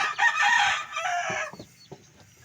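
Day-old chicks, a Boston Roundhead over Hill-Legged Dutch gamefowl cross, with shrill, continuous high-pitched peeping at first, then a few scattered chirps and soft knocks, close and fairly loud, no talk.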